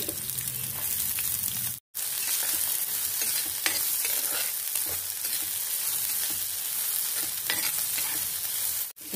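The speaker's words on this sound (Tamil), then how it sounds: "இப்போ நம்ம பொடிசா நறுக்கி வச்சிருக்க வெங்காயத்தை போட்டு வதக்கிக்கலாம்" Finely chopped onions sizzle and fry in hot oil, a steady crackling hiss with occasional stirring scrapes, continuous throughout with two brief pauses.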